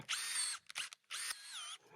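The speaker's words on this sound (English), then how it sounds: "And I'm gonna use that long 1/8 inch drill bit I have." A power drill with a long 1/8 inch bit whines in three bursts, bores holes while a rim panic device is being installed, and shifts pitch as it speeds up and slows. It is close, moderately quiet, and no one talks.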